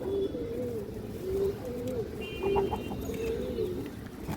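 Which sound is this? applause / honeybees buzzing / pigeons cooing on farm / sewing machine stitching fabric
pigeons cooing on farm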